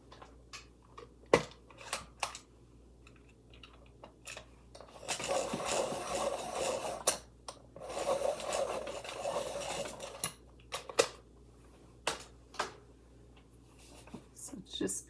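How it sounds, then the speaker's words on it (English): A colored pencil grinds steadily in a sharpener for several seconds in a quiet room, following a few faint taps and rustles, with soft speech nearby. "I'm going to sharpen this more."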